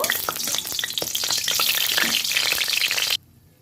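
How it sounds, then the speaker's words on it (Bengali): Dried red chillies crackle and sizzle in hot oil in a pan for about three seconds, a steady close frying hiss with sharp popping bursts, then cut off abruptly to near silence. "শুকনো লঙ্কাটা একটু ভাজা ভাজা করে নেব।"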